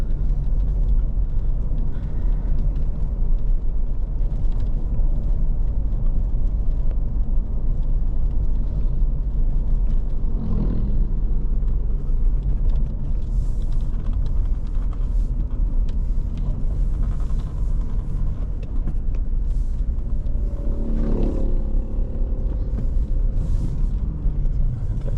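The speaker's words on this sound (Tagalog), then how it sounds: "Tricycle." A motorized tricycle's engine rumbles steadily on a road in Calaca and Calatagan, Batangas, a close, continuous low drone that swells briefly a couple of times over about 25 seconds with no speech.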